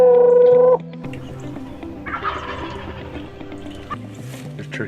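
Wild turkeys call in a springtime hunting setting, a loud steady electronic tone opening before fainter clucks and gobbles carry from the middle distance over low rumbling background noise.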